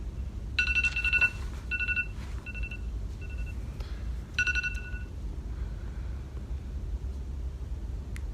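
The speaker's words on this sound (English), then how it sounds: "It was your alarm." A phone alarm rings in repeated short electronic beeping bursts, two clusters of tones with gaps between them, heard over a low steady background hum with no one speaking.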